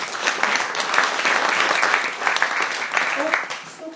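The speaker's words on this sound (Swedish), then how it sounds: "En applåd, mycket!" Applause from an audience at a Swedish industry panel event, dense clapping holding steady for several seconds before thinning slightly at the end.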